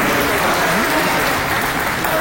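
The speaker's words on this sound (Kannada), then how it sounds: "ದಯವಿಟ್ಟು ಜೋರಾದ ಚಪ್ಪಾಳೆ." An audience gives loud, dense applause at the 25-day success celebration of the Kannada film Krishnam Pranaya Sakhi, with continuous close clapping and no voice over it.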